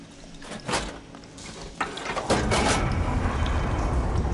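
In a video game, water is switched into an auxiliary pipe by a valve: a few clunks and knocks, then a steady, fairly loud rushing flow that fills the rest of the moment.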